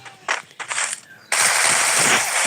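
Rapid automatic gunfire in a shooter video game, a couple of short bursts followed by a dense, sustained volley of loud shots, with no talking.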